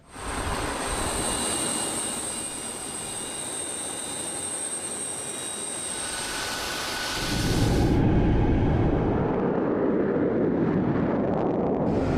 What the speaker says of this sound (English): He's in a Russian Tu-160M bomber.